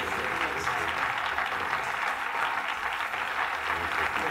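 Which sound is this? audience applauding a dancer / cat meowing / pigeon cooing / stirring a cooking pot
audience applauding a dancer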